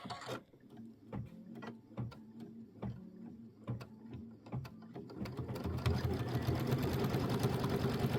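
A sewing machine stitches a quarter-inch seam on a quilted pillow project, first in slow separate clacking stitches, then speeding into a steady close rapid whir that carries to the end.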